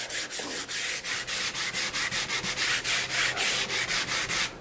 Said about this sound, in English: This is not a hard sanding, this is a light sanding.